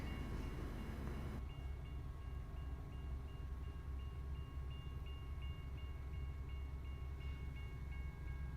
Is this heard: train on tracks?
yes